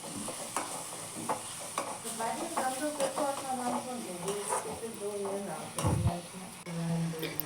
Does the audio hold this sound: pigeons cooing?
no